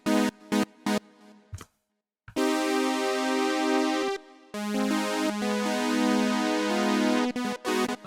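Spacey synth chords from the Jump preset on an Arturia OP-Xa, starting with short staccato stabs, then long bright sustained chords with rich overtones, loud and close with no talking.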